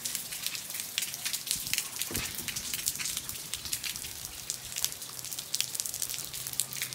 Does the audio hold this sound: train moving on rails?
no